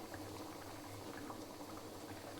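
A pot of dal sambar with drumsticks bubbling at a steady boil, a dense continuous simmering hiss with small pops, close and moderately loud, no voices.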